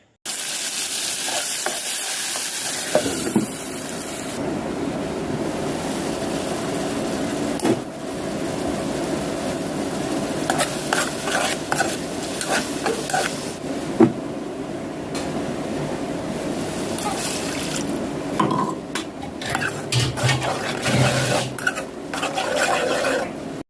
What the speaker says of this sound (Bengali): আজ হচ্ছে আমি দুপুরের জন্য রান্না করতেছি শুধু নর্মালি একদম আলু দিয়ে ডিম রান্না করতেছি